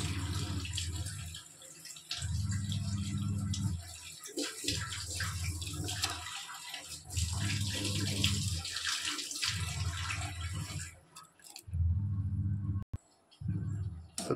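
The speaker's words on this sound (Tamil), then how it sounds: "நல்லா கொதிச்சிட்ருக்குது" Vegetables boil in a pot of water on the stove for a vegetable soup, giving a steady bubbling, sloshing wash that runs continuously, with a few brief gaps and a sharp clink near the end.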